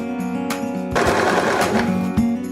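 A Janome 2049x sewing machine runs a close, loud, buzzing stitch while elastic is stretched under the needle, its motor hum steady throughout with a brief surge in the middle.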